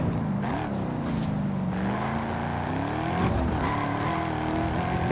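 Jaguar F-Type engine in a racing game, a steady loud growl whose pitch rises and falls with revs, tires faintly squealing, no talk over it.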